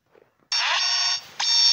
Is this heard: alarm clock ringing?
yes